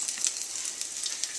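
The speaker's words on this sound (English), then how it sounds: "Would have liked a better sizzle." Potatoes sizzle cut side down in a hot pan, a steady bright crackle of frying with small pops, fairly quiet and with no talking.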